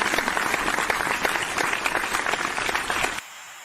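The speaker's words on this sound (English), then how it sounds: "let's give a round of applause to the Broncos" A crowd applauds for the Broncos, a steady roar of many clapping hands that stays loud and even for about three seconds before cutting off abruptly to near silence.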